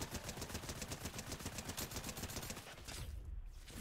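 Fortnite assault rifle gunfire, a fast steady stream of sharp automatic shots that stops abruptly near the end, fairly quiet in the mix.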